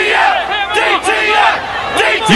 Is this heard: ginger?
no